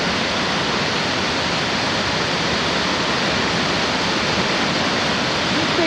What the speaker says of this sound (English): Found out there's another waterfall called the Cowshed